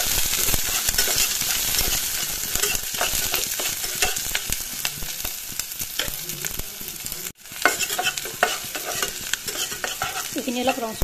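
Garlic, onion and chopped green chilies sizzling in hot oil in a pan, a loud, continuous close-up fry with repeated scraping stirs and a brief pause midway.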